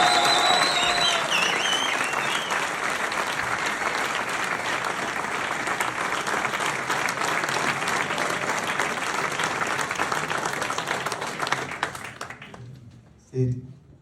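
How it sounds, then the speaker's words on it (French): A large audience gives a guest speaker a sustained round of loud, dense applause that holds steady for about twelve seconds, then cuts off abruptly, leaving a brief knock and near silence. "On peut l'applaudir bien fort."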